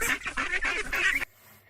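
A duck quacks in a quick run of about five or six loud, nasal, honking calls, close and clear. The calls stop abruptly, leaving near silence.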